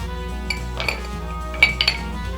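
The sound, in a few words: two ice cubes dropped into glass for rum cocktail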